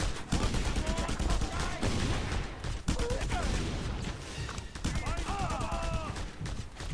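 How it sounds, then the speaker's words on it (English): Enemy gunfire in the open-world action game Just Cause 2, dense, continuous bursts of shots running throughout, loud and close, with other game sounds layered underneath. "We're being shot at."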